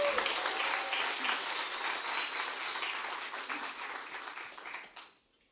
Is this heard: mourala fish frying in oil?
no